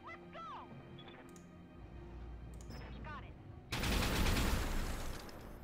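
An AC-10 autocannon in the MechWarrior video game fires a focus shot, a sudden loud, sustained burst that swells after several seconds of quieter game tones, beeps and engine rumble.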